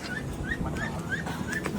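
A dog whimpers softly in a series of short, high, rising whines repeated about every quarter second, faint and close, over low background noise.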